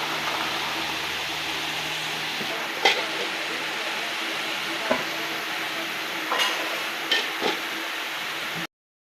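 Tadka tempering for chana pulao sizzles steadily in a hot pan, with a few sharp clinks and scrapes of stirring, before the sound cuts off abruptly.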